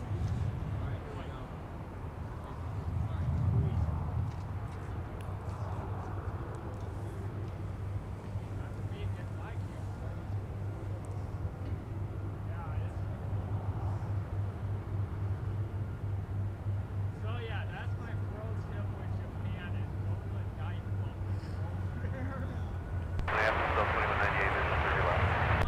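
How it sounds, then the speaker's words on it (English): A distant, steady jet rumble as an Icelandair airliner begins its departure roll at Minneapolis–Saint Paul airport, low and continuous under radio chatter from air traffic control. "Iceland Air now starting their departure roll, headed to Reykjavik"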